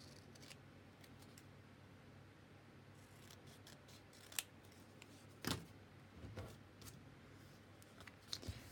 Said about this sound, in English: I'll just cut it out roughly and then it will be easier to cut out.